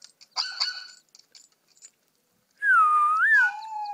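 A dog lets out a long, wavering howl that rises and falls, right after a few faint whistles and small noises, loud and close.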